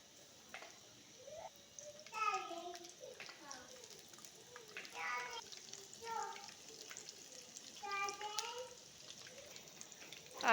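Spoonfuls of dahi bhalla batter sizzle softly in hot oil, a steady faint frying hiss under someone speaking Hindi throughout.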